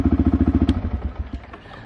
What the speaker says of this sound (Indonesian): Nah, motor akan menyala dan berfungsi normal seperti biasa.